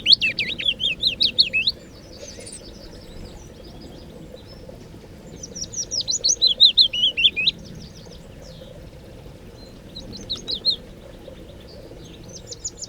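A migratory songbird from south of the Sahara sings in bright, rapid twittering phrases, three separate bursts of song with pauses between, over a low steady outdoor background hum.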